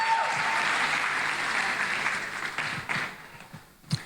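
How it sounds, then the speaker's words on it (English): Studio audience applause at a live television talk show, a steady wash of many hands clapping that holds for several seconds and then thins out toward the end, with a few scattered louder claps. "Let's give Nolo a round of applause, please."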